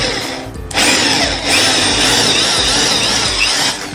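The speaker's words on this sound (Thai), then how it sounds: "ใช้สว่านเจาะ 6มิล" An electric drill bores a 6 mm hole for an M6 bolt in a DIY camping cooler stand, a short whine stopping briefly before a loud, sustained high-pitched run that holds steady to the end.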